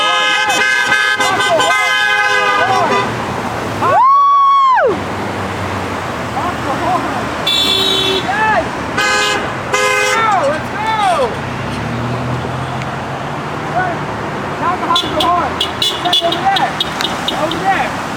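Repeated car horn honks on a street, several loud toots at varied lengths, with people talking and cheering around them amid traffic noise.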